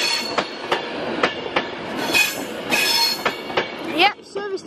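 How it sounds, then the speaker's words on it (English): Class 390 passenger train pulling out of Crewe station, with loud wheel squeals and clattering rail clicks repeating close by, rising screeches toward the end. "As now leaving is class 398 service to Glasgow."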